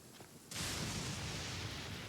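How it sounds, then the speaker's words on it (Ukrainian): A lightning strike in Genshin Impact lands with a sudden, loud, close crack that swells into a sustained roaring rumble after a brief quiet lead-in. "блискавка ледь не попала в мене"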